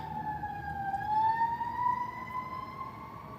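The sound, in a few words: emergency vehicle sirens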